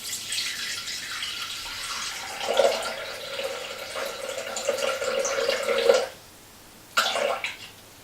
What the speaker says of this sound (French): à ces 50 g de purée d'amande, je vais rajouter 400 g d'eau